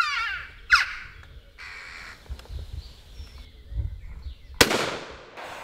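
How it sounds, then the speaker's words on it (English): Crows caw overhead above a countryside corvid-shooting position, with several harsh calls early on, quiet rustling between, and a sudden loud, sharp bang near the end. "getting good numbers of crows over his position"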